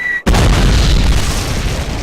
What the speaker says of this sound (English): the mortars are taking a break